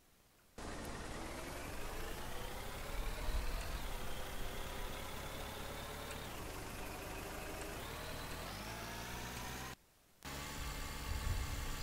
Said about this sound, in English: Now, if we shift down, you should hear it get to a higher RPM.